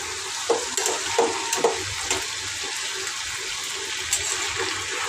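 A fish head with meat is slowly sautéed in a pan, giving a soft sizzle with a few sharp scraping stirs and clacks of a spatula at irregular moments, near and moderately loud, with no voices.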